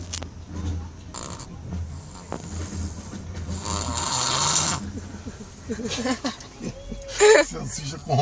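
A baby snores in repeated rough, rattling breaths that recur through the stretch, close and fairly loud, with people talking over parts of it.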